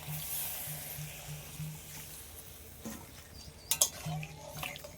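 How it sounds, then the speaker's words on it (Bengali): Water is poured into a pan of fish curry in a home kitchen, a steady, close splashing wash with faint clinks of utensils near the end and no speech. "নিয়ে এবার পরিমাণ মতন জল দিয়ে দিচ্ছি"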